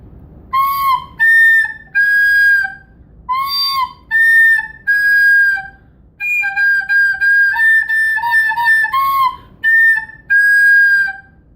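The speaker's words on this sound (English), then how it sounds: "I'm going to show you an example of what it sounds like when you don't blow gently." A recorder blown too hard gives a shrill, harsh, overblown tone in a run of short and held notes, some squeaking up into piercing pitches, loud and close with no talking.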